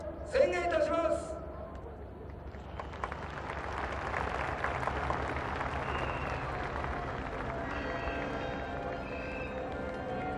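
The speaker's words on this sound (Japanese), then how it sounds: "スタンドからは声援、そして鐘の音などが鳴り響きました" Grandstand crowd at the Super GT 2007 Round 9 opening at Fuji, a broad steady roar of cheering that swells after a brief spoken announcement, with some ringing tones near the end.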